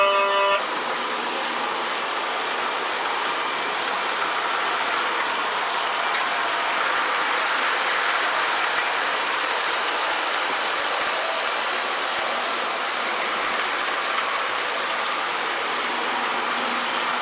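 An O-gauge model train, a NYC F-3 ABA diesel set pulling modern-era NYC passenger cars, runs steadily along track with a continuous rushing, clattering rumble that stays loud and even throughout.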